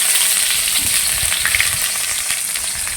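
Ginger and spices fry in hot oil with a loud, continuous crackling sizzle that fills the whole stretch, close up, with no voices.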